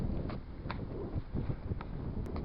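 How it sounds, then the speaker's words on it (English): Wind gusting down through a blasted cliff section beside an 1874 stone dam with cement shutters, a steady low roar with buffeting microphone rumble and a few brief knocks, no talk. "The way the wind's blowing down through this section, like, it's crazy"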